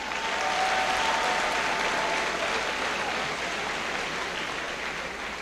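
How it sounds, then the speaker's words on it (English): Steady applause from a large crowd at a high school graduation, loud and continuous, with dense clapping that holds evenly throughout before easing slightly at the end. "Give them a round of applause."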